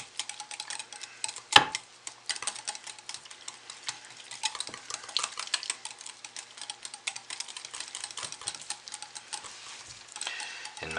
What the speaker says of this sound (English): Stir those in to mix them in really well.